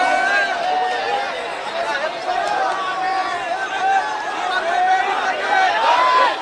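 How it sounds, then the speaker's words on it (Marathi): A large crowd chatters loudly at a Maratha reservation hunger strike event, a continuous dense babble of many voices close by and never falling quiet. "या ठिकाणी गर्दी खूप आहे"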